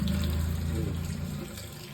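Water pours steadily from a tap to soak paddy rice, a continuous close rushing flow that holds even for its whole length.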